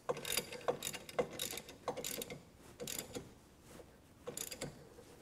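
A hand ratchet tightens the anti-rattle bolt on a Curt four-bike hitch rack fitted to a 2015 Ford Explorer, giving quiet, close clicking strokes in short bursts with brief pauses between them.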